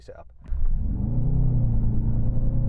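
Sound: Mercedes-AMG engine rumbling for launch control start

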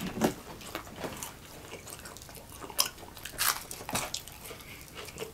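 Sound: crunching deep fried chicken nuggets

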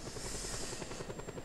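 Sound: helicopter in video game Just Cause 2

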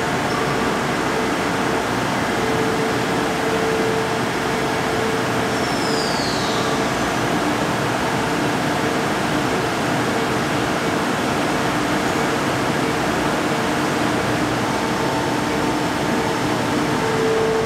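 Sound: air conditioner running in the shop

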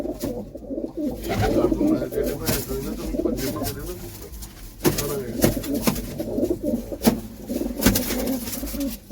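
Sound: pigeons cooing

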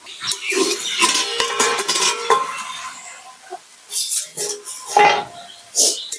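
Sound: pot lid being removed while cooking fig and shrimp curry

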